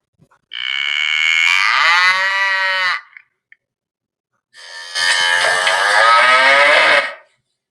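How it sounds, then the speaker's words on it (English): A cow gives two long, loud moos, close and clear, separated by a short silence. "That was a cow."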